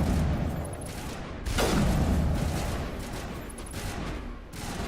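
Gunfire in a video game comes as rapid, overlapping volleys of shots with one louder burst near the middle. The shooting rumbles on continuously at close range.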